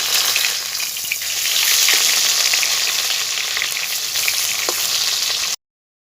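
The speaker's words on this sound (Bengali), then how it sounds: "সর্ষের তেল গরম হয়ে গেছে মাছগুলো দিয়ে দেবো" Fish rubbed with turmeric hiss loudly in hot mustard oil in a kadai, a dense, even sizzle that fills the scene close up for several seconds before cutting off abruptly.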